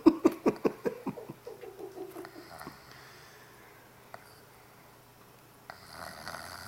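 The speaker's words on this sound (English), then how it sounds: "That's a 5-year-old snoring" A five-year-old child snoring, opening with a quick run of sharp, rhythmic snorting breaths close by, then settling into a quiet stretch before a softer breath returns at the end.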